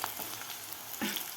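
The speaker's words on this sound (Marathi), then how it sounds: "लसूण थोडासा गोल्डन कलर होईपर्यंत आपल्याला हा लसूण तळायचा आहे." Garlic fries in oil until golden, giving a steady close sizzle with brief louder stirring scrapes and no talking.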